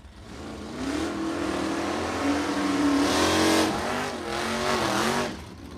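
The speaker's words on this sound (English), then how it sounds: "So two more pairs of Nostalgia Super Stocks rolling out." Nostalgia Super Stock drag race cars launch at a vintage drag strip, engines roaring loud and close in a sustained rising blast with shifting revs and tire noise, no talking over it.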